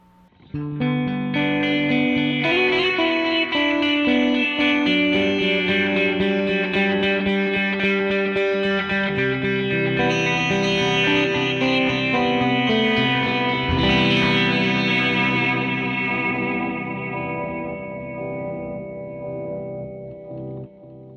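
Electric guitar chords shimmer through a chorus pedal placed before an overdrive into gritty drive, sustained and loud, with a wide wavering tone that slowly fades out.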